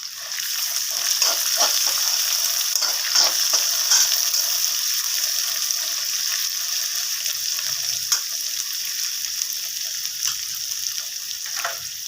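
Large onions frying in a pan for hotel-style tomato bath, a steady close sizzle and hiss running throughout, broken now and then by soft scraping stirs, with no one speaking.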